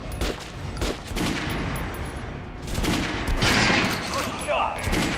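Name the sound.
gunfire at shooting range in video game Metro: Last Light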